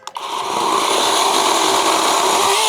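A Grand 20V cordless battery mini chainsaw revving with no load after a brief start, settling into a loud, steady, high motor whine held close up.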